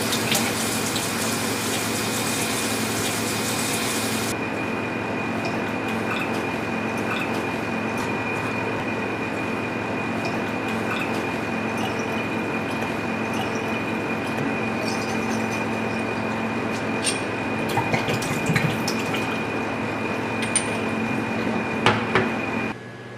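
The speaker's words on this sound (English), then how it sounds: "clean and wash the sample bottle or container thoroughly and rinse with" Water runs continuously from a laboratory tap while a sample bottle is rinsed with distilled water, giving a steady, unbroken hiss with small splashes and clinks near the end.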